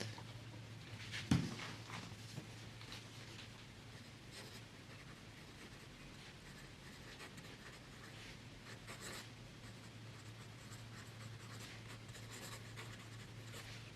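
An extra fine fountain pen nib writes Aurora Blue ink on Rhodia paper, giving a faint, steady scratchy rustle that runs continuously and quietly, with soft strokes and a few slightly louder taps.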